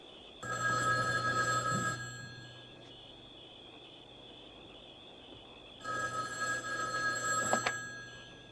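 Telephone ringing in an ALF radio drama, two long electronic bell rings separated by a pause of about four seconds, clear and moderately loud over quiet background hiss, no talking.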